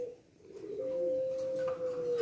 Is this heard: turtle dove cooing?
yes